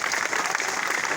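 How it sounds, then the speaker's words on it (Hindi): Audience applause at an elementary school results day and prize-giving ceremony, a short dense burst of clapping from a gathered crowd, loud and close, with voices mixed in. "ताली भाई।"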